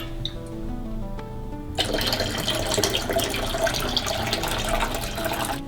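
After a quiet stretch with a faint hum, water suddenly starts pouring into the reservoir of a Ninja coffee maker in a steady, splashing stream that continues to the end.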